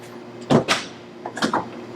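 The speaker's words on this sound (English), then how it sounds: "Shut this door." A door in a building being filled with barbecue smoke is pushed shut, giving two close clunks and knocks about a second apart against a low background hum.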